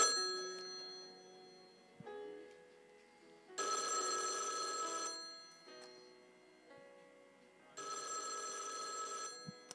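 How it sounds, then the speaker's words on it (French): A telephone bell rings in repeated bursts separated by short pauses, fairly quiet and alone, with a bright metallic ring. "Mais cette sonnerie résonnait."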